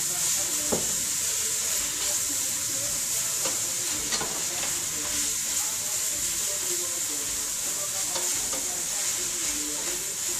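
Already cooked saltfish frying in olive oil over a medium flame for ackee and saltfish, a steady close sizzle with scraping stirs running throughout, no talking.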